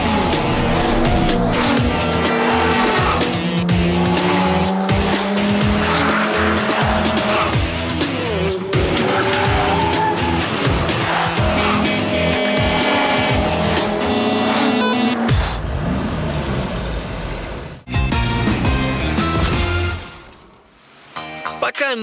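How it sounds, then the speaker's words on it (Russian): Ferrari race car driven on the Monaco street circuit, with a loud, continuous engine roar and rising and falling revs and tire noise throughout, close and dominant, fading near the end. "гоняет на своем Феррари"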